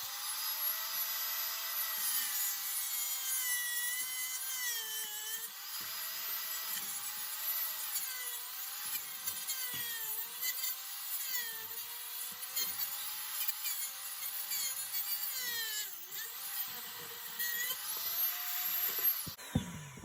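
A power tool whines steadily and continuously for about twenty seconds, close up and loud, while cutting a JamHandle door handle to length. No one speaks.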